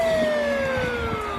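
An ambulance siren wails steadily and loudly, its pitch sliding slowly downward as the vehicle passes close by, with faint traffic rumble beneath.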